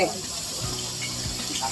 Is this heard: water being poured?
yes